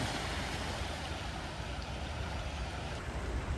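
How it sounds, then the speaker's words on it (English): Atlantic Ocean waves at Fort Williams Park on the Maine coast, heard as a steady, broad wash of surf noise at moderate distance with no voices. "today we're touching the Atlantic Ocean"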